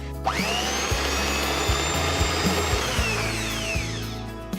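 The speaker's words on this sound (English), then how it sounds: "I'm going to put it to my blender, and I'm going to blend it for about 5 minutes." A kitchen blender runs on a slightly hardened mixture, its motor giving a loud, steady, high whine with a grinding churn underneath. The sound is continuous and close, with no voices.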